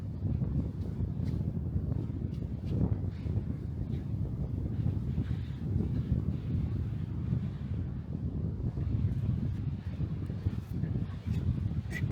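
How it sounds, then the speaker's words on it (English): Strong wind buffets a beach in a constant low rumble of gusts hitting the microphone, with faint surf underneath. "it's so damn windy"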